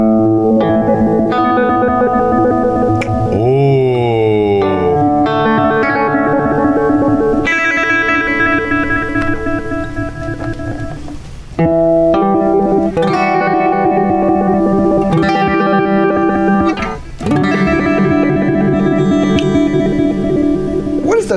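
An electric guitar runs through an Old Blood Noise Endeavors Dweller pedal with regeneration turned up, giving sustained, heavily echoing, modulated notes with pitch swoops and repeating trails, loud and continuous with short breaks between phrases.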